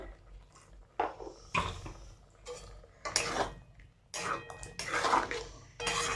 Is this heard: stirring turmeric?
yes